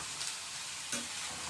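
Mint leaves for pudina thuvaiyal are sautéed in a pan with a faint, soft sizzle, and a brief stirring clatter lands near the middle. No one speaks.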